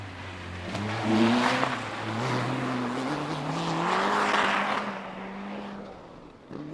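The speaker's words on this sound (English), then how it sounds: "Kevin Johnson from Loughborough Car Club, driving around, open window, massive smile on his face, clearly enjoying himself." Car 41 from Loughborough Car Club driving a time trial course at Melbourne, its engine note steady and rising and falling as it passes, fairly close and loud with no talk.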